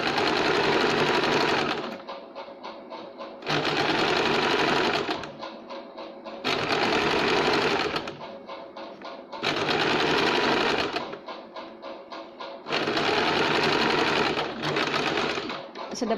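Close, loud bursts of a sewing machine stitching the lining of a katori blouse, four long runs alternating with quieter pauses in an even rhythm.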